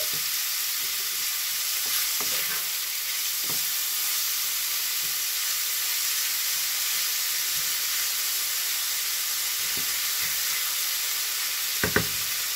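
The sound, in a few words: lamb meat browning in a frying pan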